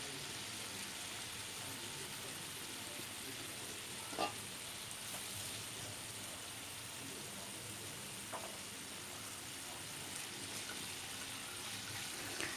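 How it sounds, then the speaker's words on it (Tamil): Prawns sizzle steadily in hot oil with a constant frying hiss and a few faint clinks of stirring, with no talk over it. "எண்ணெய் நல்லா சூடானதுக்கப்புறம் ப்ரான் வந்து கொஞ்சம் கொஞ்சமாக சேர்த்து"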